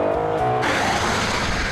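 Ford Mustang Boss 302 at Le Mans, a car engine revving high and loud up close, with the tone rising sharply partway through and no talk over it.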